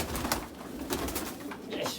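A pigeon or dove in a coop cooing softly in repeated low calls, faint and steady against background noise.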